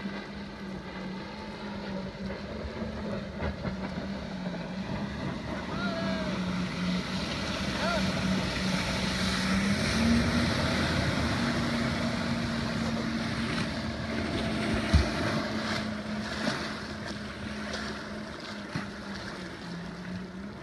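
A motorboat cruises over gentle waves on Lake Powell, giving a steady engine drone with rushing water and wind buffeting the microphone throughout the ride.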